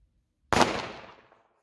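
A Komet Super 2 firecracker blows up on New Year's Eve after near silence, one sudden loud bang whose sharp echoing tail dies away over about a second.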